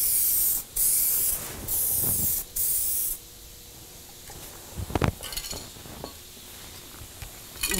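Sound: 2K aerosol spray can spraying mid-coat paint on car

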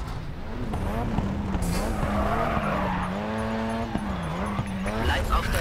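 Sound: car bumping and skidding in a curve in the video game GRID 2

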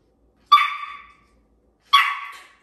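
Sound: teacup Yorkie puppy barking

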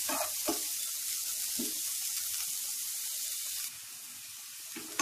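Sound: frying capsicum on medium flame

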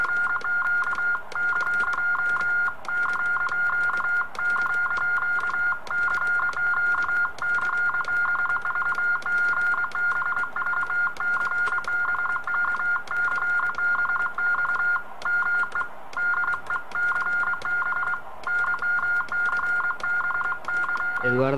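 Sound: radiotelegraphy signal keyed on amateur radio station

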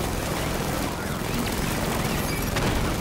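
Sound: gunfire in Batman Arkham Knight video game

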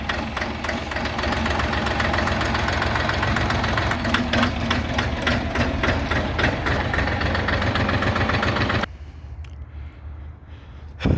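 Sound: tractor engine idling

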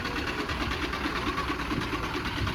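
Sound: idling bus engine running air conditioning

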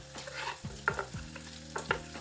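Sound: onion frying with bacon in a pan

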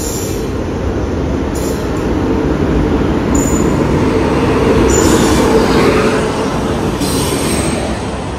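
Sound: Kochuveli–Amritsar weekly superfast train arriving

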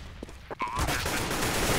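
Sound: gunfire in Counter-Strike video game on de_mirage

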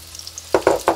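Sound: eggplant frying in hot oil

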